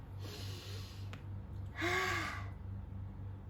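A breathy sharp inhale followed by a louder, deeper breath with a voiced edge, over a soft steady rhythmic background hum.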